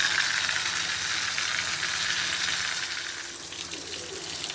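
Masala spices fry in a pan for a chicken roast, giving a loud, steady hiss and sizzle that softens slightly toward the end, with light stirring and no talk.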